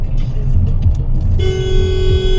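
Road traffic on a narrow road between Delhi and Siliguri near Lucknow: a steady engine rumble, then a car horn blares and holds continuously through the second half, loud and close.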